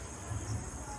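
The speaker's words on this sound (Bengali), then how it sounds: "পুরো ঝিঝি পোকার ডাক" Crickets chirp at night along a dark road near a pond, a faint continuous high-pitched trill over a low background hum.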